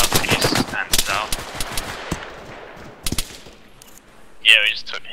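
Suppression gunfire in the ArmA III military game: several sharp, loud bursts of automatic small-arms fire early on, then scattered single shots and a later burst, mixed with muffled radio-style voices.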